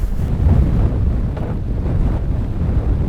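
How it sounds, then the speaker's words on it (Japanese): Strong wind on a fishing raft buffets the microphone with low, gusty rumbling and rushing, loud and constant throughout, no voices heard. "めちゃくちゃ風強くなってきた。"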